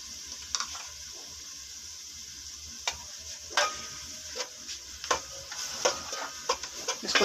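Sarson ka saag thickened with wheat flour cooks over low heat in a pan, giving a quiet simmering hiss and a run of soft, irregular ticks and taps from stirring that grow busier toward the end.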